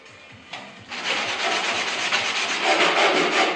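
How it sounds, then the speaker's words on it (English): Sandpaper rubs along the rough plywood edges of a credenza, a close, loud, continuous scratchy rasp that starts with a brief light stroke and then settles into steady back-and-forth sanding. "I'm just going to sand off the rough edges."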